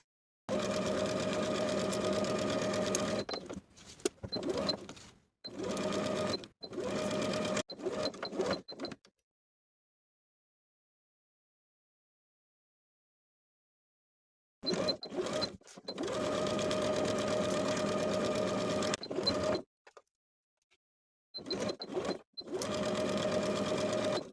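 A sewing machine stitches a dress collar seam with a 3/8 inch seam allowance, running in loud, steady bursts of several seconds with short pauses, then a long silent gap before more runs of stitching.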